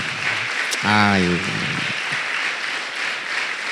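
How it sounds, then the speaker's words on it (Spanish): Congregation applause during a church sermon, a steady wash of clapping underneath a brief voiced exclamation from someone in the room. "Dale un aplauso al Señor."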